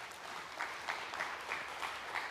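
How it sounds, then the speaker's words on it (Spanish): Church congregation giving a strong round of applause, a faint, distant wash of steady clapping with no voices over it. "Le da un fuerte aplauso al Señor"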